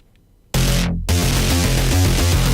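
Two layered pluck bass synth patches play together in Serum, a thick, dense bass melody with a filter sweep near the start, loud and steady with no talking.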